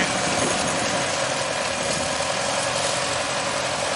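A 1949 Haas B vintage tractor engine runs steadily at a show, a continuous close, loud mechanical drone with a rough idling throb and no voices over it.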